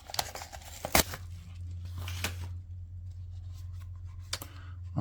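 Paper envelopes holding Magic the Gathering trading cards being torn and slit open up close, with a few sharp rips and rustling, handling noise over a low steady hum, no talking.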